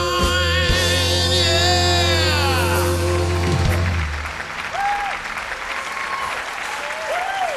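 An audience at a vocal battle show applauds after a performance. A sung note holds over the start, then steady clapping and crowd noise continue to the end with a few short vocal sounds.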